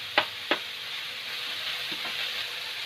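Chopped tomato and capsicum fry in a pan with a constant hissing sizzle, broken early by two sharp spatula scrapes and later by softer stirring knocks.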